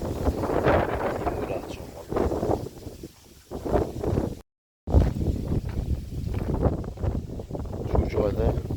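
Wind gusts roar steadily across an open fishing spot, buffeting the microphone at close range with a brief dropout midway, while people talk over it.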